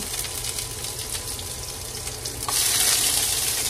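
Garlic and onion sautéing in a hot pan give a steady, close sizzle, swelling louder and brighter for the last second as more goes in.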